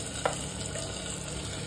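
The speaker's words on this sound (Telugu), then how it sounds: "ఇలా తాలింపు సుయ్యమని పెట్టాలండి" Hot oil tempering hits a mung dal and ponnaganti greens curry with a soft, steady sizzle, one faint click near the start, quiet and close with no voices.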